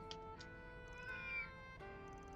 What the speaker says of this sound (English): Oh, hey, it's the cat.